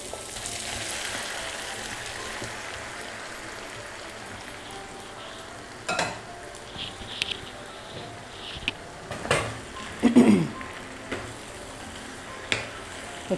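Jackfruit and meat bhuna with fried onions being fried and stirred in oil, a faint continuous sizzle under scattered scraping and tapping of a spoon against the pan that grows busier toward the end, with no talking.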